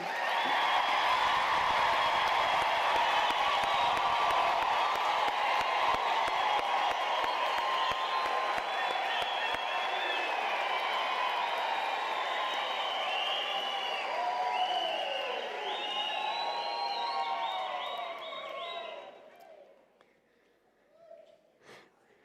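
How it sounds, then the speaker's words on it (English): A large graduation ceremony crowd at a Unisa spring graduation applauds and cheers the seated graduates, with dense, loud clapping and shrill whoops sustained for nearly twenty seconds before quickly dying away into near quiet. "let's give a big round of applause to our graduates seated here."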